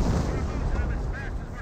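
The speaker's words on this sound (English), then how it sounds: "that rifle squad does get forced back by an artillery barrage" Artillery barrage in the Company of Heroes video game, heard as a dense, loud, rumbling wash of booming impacts that runs continuously through this short moment, with a brief whistling tone overhead.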